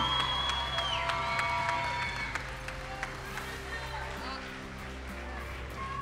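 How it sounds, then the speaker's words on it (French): An audience applauding three young winners at a French arts evening, steady crowd clapping with some cheering at moderate distance while a presenter talks over it, the clapping thinning toward the end. "On peut les applaudir tous les trois, évidemment."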